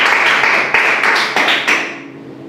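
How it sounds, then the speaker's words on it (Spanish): A church congregation applauding during a Spanish-language service, a dense, loud burst of clapping with a few stronger accents that fades out toward the end. "Vamos a dar un aplauso al Señor"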